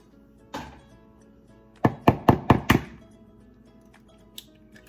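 Eggs cracked into a bowl in a home kitchen: a quick cluster of five sharp knocking taps close together, preceded by one softer knock and followed by a faint tap, with no talking.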